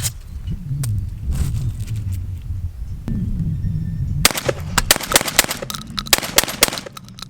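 Beretta pistol, just back from warranty repair for a malfunction, fires a rapid run of sharp, loud shots in the second half, preceded by lower background rumble and scattered earlier reports, likely at an outdoor range.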